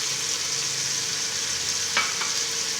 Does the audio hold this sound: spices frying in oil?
yes